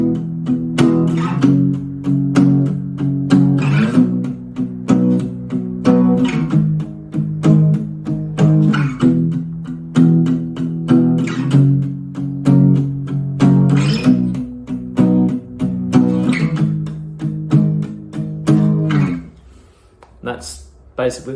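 An acoustic guitar strums the repeating eight-bar chord cycle of a song, with steady rhythmic strokes that ring out clearly and alone, fading to a sparse tail at the end.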